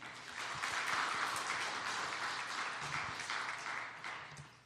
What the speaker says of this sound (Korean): 우리 하나님께 영광의 박수 한번 올려드립시다.